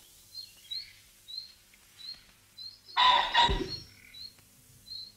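Short, high bird chirps repeat every second or so in a quiet wild setting, with a louder rustling, fluttering burst midway; the calls sound moderately distant and faint.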